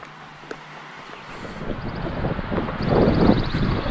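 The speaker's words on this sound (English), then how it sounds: "A bit windy down here by the water." Wind gusts buffet the microphone beside a lake at a quiet Adirondack campground near the beach pavilion, a rushing roar that swells louder toward the end.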